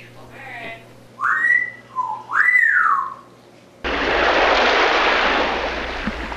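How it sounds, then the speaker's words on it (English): An African grey parrot gives a few clear, rising and falling whistles, then a loud rush of noise takes over. "That's an African gray parrot"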